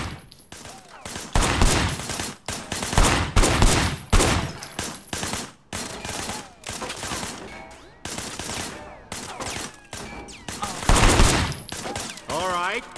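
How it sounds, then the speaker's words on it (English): Gunfire in the video game Sleeping Dogs, fired from cover behind a barricade: dense, loud bursts of shots in repeated volleys with short pauses, mixed with game sound effects and occasional voices. "I want you to put some bullets in a few things"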